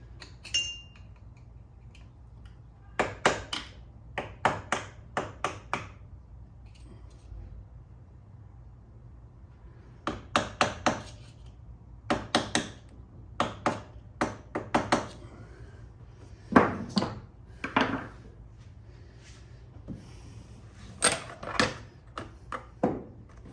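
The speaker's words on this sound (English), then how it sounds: "Hammer and a screwdriver." Sharp metallic taps of a hammer on a screwdriver, struck in short irregular bursts of several hits each during a Kawasaki KFX 400 engine teardown, with pauses between, close by and fairly loud over a low steady hum.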